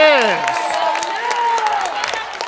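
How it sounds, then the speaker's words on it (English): A school crowd cheering and whooping loudly at a junior varsity boys basketball game after a clutch shot, with bright shouts and clapping over a general roar and a voice talking under it. "that gets the crowd excited"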